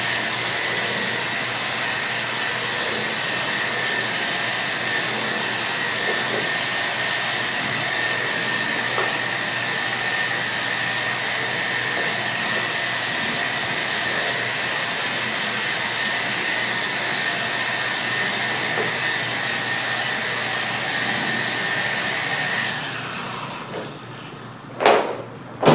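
A Porter-Cable PC7424XP random orbital polisher fitted with a Nanoskin Autoscrub pad runs steadily with a constant whirring drone that holds for most of the stretch, then winds down near the end with a brief clatter.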